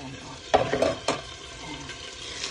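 Blanched pork neck bones dropped into a pot for sinigang, giving a short burst of clattering and sizzling that fades quickly into a low background hiss.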